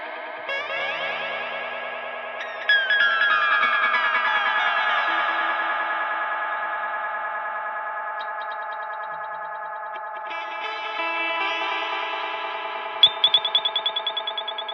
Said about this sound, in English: we're going to see what happens when I try this sort of weird and wacky noises